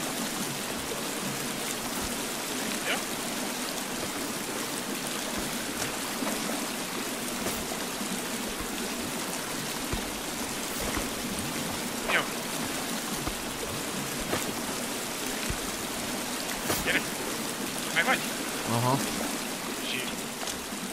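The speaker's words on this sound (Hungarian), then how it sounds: "Jaj, de hangos az a víz" Loud, steady rushing of flowing water from a stream in the survival game The Forest, a continuous broadband wash with occasional faint splashes and clicks, and speech tagged faintly underneath.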